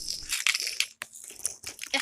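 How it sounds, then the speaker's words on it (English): A toy train crashes into rubble in a staged sound effect, heard as a close burst of crunching and crumbling debris with short scattered impacts over about two seconds. "Percy crashed into the rubble"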